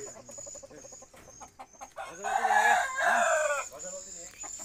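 Turkeys calling at a poultry farm, hen and male together, with rapid clucking gobbles followed by a loud, drawn-out rising call close by, then more chattering notes.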